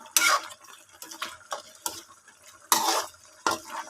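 Pork pata tim with egg and potato being stirred in a pot, giving a few separate scraping, clinking strokes of a utensil against the pot at an uneven pace, close by, with no talking.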